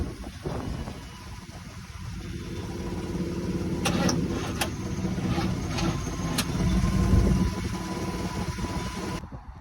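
A 1972 Chevrolet C10 pickup with a previously dead battery and a loose fuel hose cranks and catches, then settles into a loud, rough idle close by, with no talking over it.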